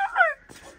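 A hen with a brood of ducklings on a farm gives one short, close cluck, followed by a moment of faint rustling.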